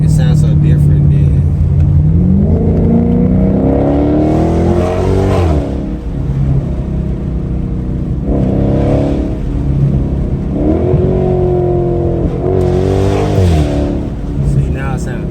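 V8-powered muscle car engine revving hard in repeated surges and dropping back between them, loud and close from inside the car, with people talking and reacting over the rumble.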